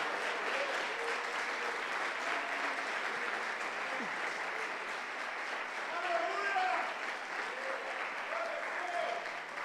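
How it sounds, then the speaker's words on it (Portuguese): A church congregation applauds steadily in a dense, continuous wash of clapping throughout, with voices talking and calling out over it. "Pode aplaudir e glorificar o nome do Senhor."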